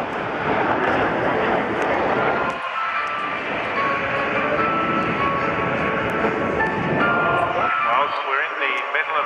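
Jet aircraft engines at the Bournemouth Airshow 2019 during a dogfight display give a loud, continuous roar with shifting tones and brief dips, heard under steady narration.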